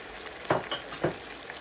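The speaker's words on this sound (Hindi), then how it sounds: "अब इसमें हम टमाटर डालेंगे।" Tomatoes drop into chicken karahi frying in a pan, giving a steady low sizzle with a few sharper bursts of crackle and stirring, fairly quiet and with no talking.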